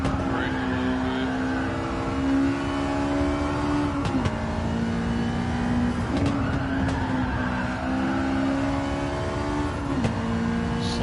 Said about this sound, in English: Sliding the car a little bit more than I want to